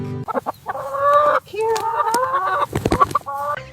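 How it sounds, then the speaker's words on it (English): A hen clucks and squawks nearby, a few drawn-out tonal calls broken by short sharp clucks, with steady background noise throughout. "And on that farm he had a hen, E-I-E-I-O. With a cluck, cluck here and a cluck, cluck there"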